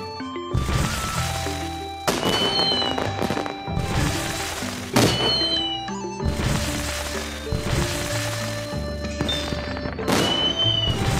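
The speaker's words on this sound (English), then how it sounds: "Tap here and you'll see an amazing fireworks display." A fireworks display in the Baby Panda Chinese holidays mobile game plays as a series of thumping, crackling bursts at intervals over cheerful background music.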